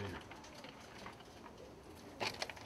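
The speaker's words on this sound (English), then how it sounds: "Ice pigeons." Ice pigeons, including a brown hen, coo softly in a loft at a spring pigeon show, low and fairly faint under steady background noise, with a brief flurry of sharper sounds near the end.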